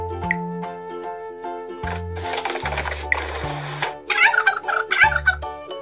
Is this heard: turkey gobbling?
yes